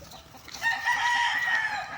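A rooster crows once on a small farm, a loud, drawn-out call rising after a brief pause and holding for over a second, close by, with faint background clucking.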